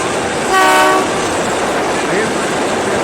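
A passing train sounds a short steady horn blast over the continuous rumble and rattle of the rail cars, the horn loud for about half a second before the clatter carries on alone.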